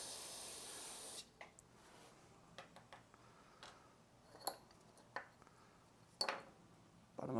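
Carburetor cleaner sprayed onto a Honda Elite 80 scooter carburetor, heard as a steady hiss at first, then a series of short, sharp bursts with quiet gaps between them, close and fairly soft, with no talking.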